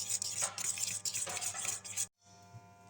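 A spoon stirring vegetable okoy batter with dried shrimp in a bowl, soft wet scraping strokes in a close, quiet kitchen, stopping abruptly near the end.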